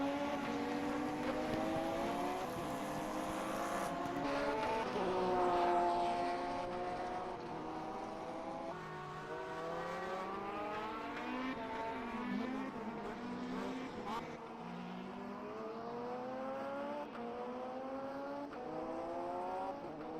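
GT race cars running on a wet Shanghai circuit, engines droning and shifting up and down in a continuous layered whine as several cars pass, with no talk over it.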